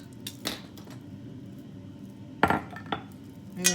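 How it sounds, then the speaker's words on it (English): A spoon stirs cocoa into melted butter in a bowl for cupcake icing, giving a few scattered clinks and taps against the bowl over quiet room noise. "I'm going to stir that in."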